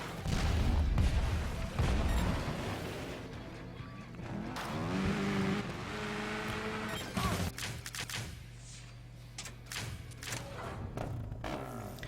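Bombs falling and exploding in the motorbike game Trials Evolution on a World War II D-Day themed track, heavy booming blasts over a revving bike engine, dense and continuous with a whistling descent midway.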